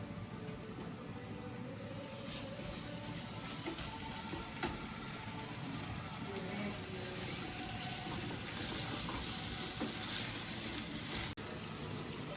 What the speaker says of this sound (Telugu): వెల్లుల్లి పేస్ట్ వేసుకున్నాం ఇప్పుడు